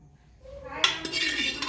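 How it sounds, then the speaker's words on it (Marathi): Chicken bhaji being stirred in a pot, with a spoon scraping and clinking against the metal in a quick burst of close, fairly quiet stirring. "आता याला छान असं मिक्स करून घ्यायचं, हलवून घ्यायचं भाजीला."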